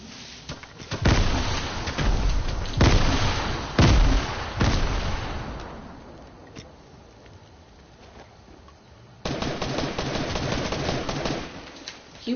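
Gunfire in the video game Fortnite: loud bursts of shots in clusters over the first half, fading to quieter ambience, then a sustained dense burst of firing near the end.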